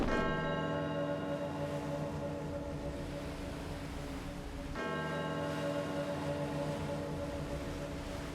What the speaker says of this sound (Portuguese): o sino está tocando agora?